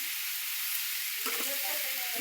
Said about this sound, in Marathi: आता मी भोपळा टाकत्या. बघू शकतो सगळे एक अशी व्यवस्थित हलवून घ्यायची.